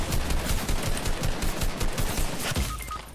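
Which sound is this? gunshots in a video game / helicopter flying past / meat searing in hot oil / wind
gunshots in a video game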